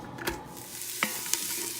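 Diced onions sizzling in a hot Instant Pot, a steady quiet frying hiss broken by a few sharp scrapes and clicks of a utensil stirring them around, close and with no talking.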